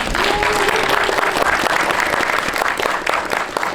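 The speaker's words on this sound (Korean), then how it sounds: "큰 박수 한번 부탁드릴게요" An audience at a special film screening with a guest talk gives a loud, dense round of applause that holds steadily throughout.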